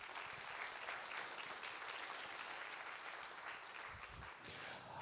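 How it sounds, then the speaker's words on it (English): Audience applause at the Hip Hop Film Festival, a dense, steady clapping from a full room holding at even loudness for about five seconds. "Give the festival a round of applause, please."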